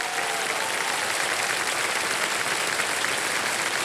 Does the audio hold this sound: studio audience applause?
yes